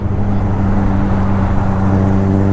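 A Kawasaki Ninja 1000SX motorcycle on the road gives a steady, loud engine drone with a low hum, heard alone without talk.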